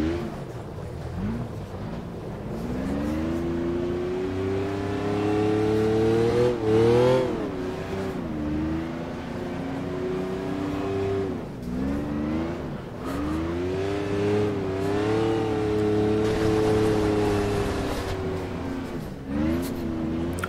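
A McLaren F1 engine in the Automobilista racing game, driven on a snowy Nürburgring, drones loud and steady, its pitch climbing and dipping through repeated gear changes and throttle lifts, with no talking over it.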